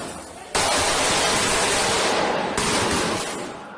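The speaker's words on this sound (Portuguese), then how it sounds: "São Januário foi alvo de ataques com fogos de artifício" Fireworks aimed at São Januário stadium crackle as a dense, loud, continuous barrage of rapid bursts that starts abruptly, surges again partway through, then tails off slightly, with no voices.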